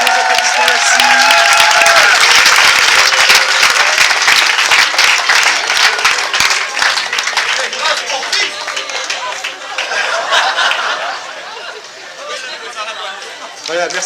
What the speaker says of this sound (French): Si vos applaudissements, merci.